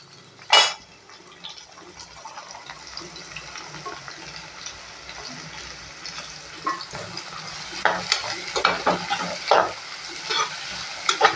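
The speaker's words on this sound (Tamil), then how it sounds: "இப்போ கட் பண்ணி வச்சுருக்கிற ரெண்டு வெங்காயத்தை சேர்த்துக்கலாம்" Two cut onions are added to garlic frying in a pan and stirred. A sharp sizzle bursts up at the start, then a softer frying hiss follows with repeated scraping stirs that grow busier toward the end.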